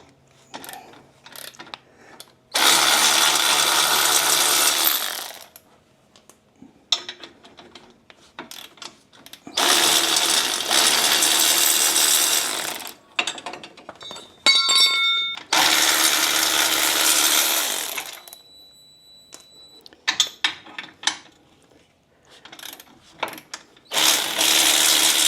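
Power tool zipping out 16 mm bolts holding a Jeep's belly skid plate: three long loud whirring runs of several seconds, with ratcheting clicks and clanks of parts between them, close up.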